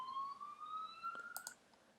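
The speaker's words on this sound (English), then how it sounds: "I've got some police sirens, and if I just double click on the police sirens, I can play them back here and just preview them" Police siren sound effect previewed in Premiere Pro editing software, a faint, distant wailing tone gliding slowly upward, with a few brief clicks near the end.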